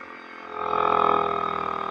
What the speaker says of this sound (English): That's the long wind down, like not like usually quickly wind down.